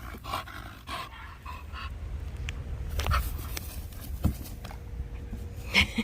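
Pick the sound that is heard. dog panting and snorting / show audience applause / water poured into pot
dog panting and snorting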